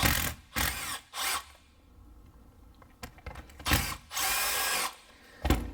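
Power driver loosening Torx screws on an EGR valve being torn down, in several short whirring bursts separated by pauses and faint clicks of handling.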